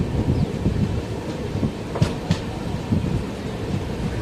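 An Indian passenger train hauled by a WAP-7 electric locomotive rolls along the rails with a steady low rumble and irregular clunks, plus a couple of sharper metallic knocks, heard from inside the carriage with no talking.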